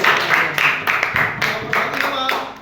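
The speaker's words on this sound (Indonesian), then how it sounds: "Tepuk tangan untuk semuanya." Students in an economics class clap together, a loose group of hand claps in uneven bursts with brief pauses, close and fairly loud, with a cheer-like voice mixed in.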